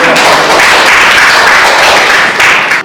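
Audience applause in a classroom at a teacher-training Fiqh lesson session, dense steady clapping from a room of people, loud and sustained for about three seconds before cutting off.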